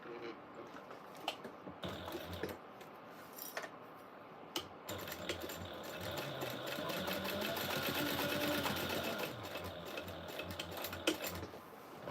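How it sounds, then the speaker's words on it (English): Sewing machine running steadily while top stitching along folded fabric for a Valentine's Day sewing project, a continuous close mechanical whir with brief pauses and restarts, no talking. "And top stitch it right along here."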